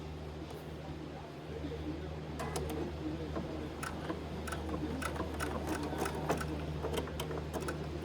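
Sewing machine top stitching over the edges of cut fabric hair pieces, quiet bursts of rapid ticking stitches over a low motor hum, with talk alongside.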